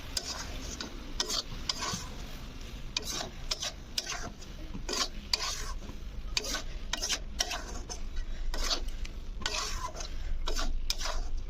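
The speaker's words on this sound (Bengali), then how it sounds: "এই যে মটর আর আলুটাও দিয়ে দিয়েছি, এটাকে এবার ভালো করে একটু কষিয়ে নিয়ে জল ঢেলে দেবো" Peas and potatoes sauté for ghugni, a soft sizzle under a rapid, rhythmic scrape of a spatula stirring against the pan, close up and continuous, with no talking.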